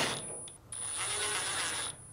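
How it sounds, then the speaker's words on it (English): Ratchet driver clicking as two screws are driven back into the front cover of a Fisher & Paykel dryer, a close, steady run of quick ratcheting ticks with a brief pause partway. "Now reinstall the two screws on the front cover."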